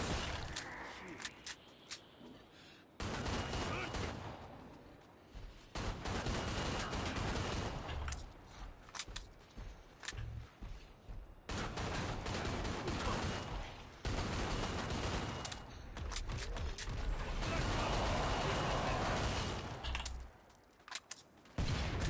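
Gunfire in the co-op shooter Killing Floor 2 comes as sustained dense bursts of rapid shots with brief pauses between volleys, loud and continuous over a long stretch.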